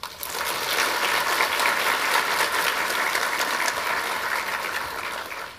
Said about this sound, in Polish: proszę o gromki aplauz dla wszystkich naszych gości